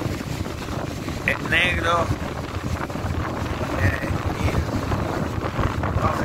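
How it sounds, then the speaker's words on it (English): Gusty wind on a beach buffets the microphone in a continuous rushing roar, with a brief voice speaking partway through. "Windy day in the beach."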